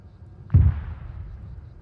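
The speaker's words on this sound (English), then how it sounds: "A few mortar shells" A single mortar shell blast in the video game Arma 3 Antistasi, one sudden booming thud that rolls off into a fading rumble against quiet background.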